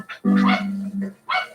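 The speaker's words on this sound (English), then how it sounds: "That's my dog." A dog gives a short burst of barks, a quick yip, then a longer bark and another yelp, all close by and loud over a quiet background.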